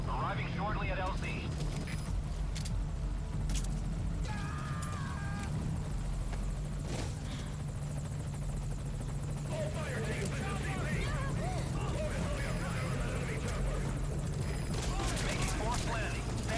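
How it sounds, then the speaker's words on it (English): A helicopter arrives in the video game Metal Gear Solid V: Ground Zeroes, its steady rotor drone and engine roar sounding loud and continuous beneath game effects and voices speaking throughout. "This is Morpho, arriving shortly at LZ"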